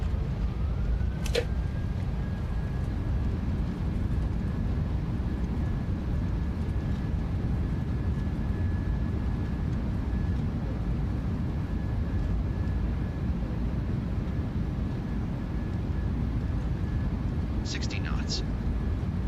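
Boeing 737-800 thrust reversers roaring after touchdown in Microsoft Flight Simulator 2024, a loud, broad, continuous rush of engine noise sustained throughout, with a thin steady tone running across it and short clicks near the start and end.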